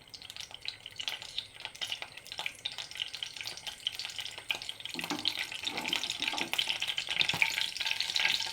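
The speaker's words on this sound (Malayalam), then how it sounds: "ഉള്ളി വഴന്ന് വരണം. അല്പം വെളിച്ചെണ്ണ ഒഴിച്ചു. ചൂടാകട്ടെ." Onion sautéing in hot coconut oil, a steady broadband sizzle with scraping stirs that grows denser and louder toward the end, heard alone without talk.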